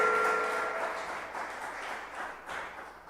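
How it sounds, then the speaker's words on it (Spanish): Church congregation applauding in praise, a broad wash of clapping that begins loud and gradually tapers off, with a faint sustained tone near the start. "Démosle un aplauso al Señor por eso."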